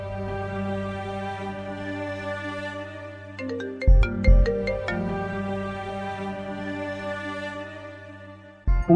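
A phone ringtone plays as a melodic electronic tune with a run of bright repeated notes, steady and fairly loud, then briefly cuts off near the end.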